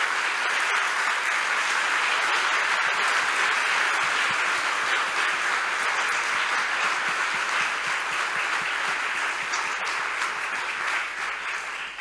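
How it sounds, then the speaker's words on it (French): A hall full of people applauds steadily at a university thesis-presentation final, a dense, even wash of clapping that holds at full strength for the whole stretch. "bien vouloir applaudir tous les scientifiques du monde entier"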